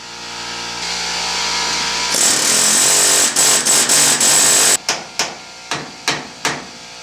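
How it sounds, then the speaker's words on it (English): A steady mechanical drone, then a run of sharp metallic hammer strikes freeing a seized steering linkage on a 1986 Ford F250, about a dozen ringing blows, the last few spaced and distinct. "we broke this free, a little PB blaster, and a lot of hammering"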